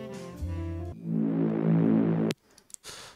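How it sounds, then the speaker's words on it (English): A thick, buzzing reese bass synth drone swells and wavers for about a second and a half after a short lower note, then cuts off abruptly. "at the end I made a nice reese bass"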